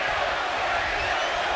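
A wrestling crowd in Detroit roars steadily throughout a tag-team match involving Team 3D, a dense, continuous wash of many voices with no clear break.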